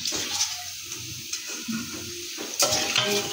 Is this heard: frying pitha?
yes